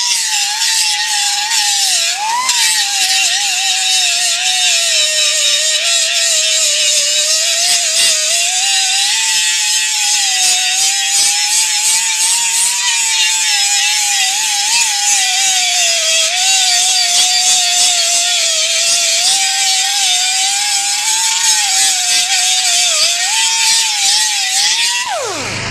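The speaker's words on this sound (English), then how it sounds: "you take your little air grinder and just kind of" Air grinder with a 36-grit disc sanding across a welded Harley fender panel, a loud, continuous high whine with a harsh abrasive hiss that wavers slightly in pitch for about 25 seconds, ending abruptly.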